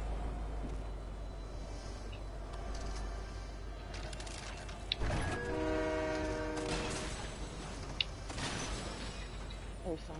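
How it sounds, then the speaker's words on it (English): A train passes at a distance, its horn sounding in a few sustained blasts over a low rumble of rolling cars, with faint voices in the background. "Train going right now?"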